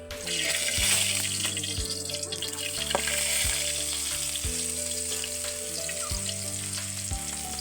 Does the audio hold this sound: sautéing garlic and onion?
yes